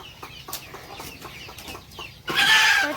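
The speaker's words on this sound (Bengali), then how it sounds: "যে মুরগিকে ধান দিচ্ছে," Chickens pecking at scattered paddy grain cluck softly several times in short, spaced bursts, close by. A louder rustling scatter of grain follows near the end.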